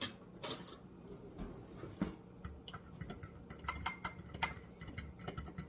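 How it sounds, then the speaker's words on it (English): A single egg being whisked lightly with a utensil against a bowl while making pigs in a blanket: rapid, close, irregular clinking taps, alone with no talking. "got myself one egg. Just gonna give it a slight whisking."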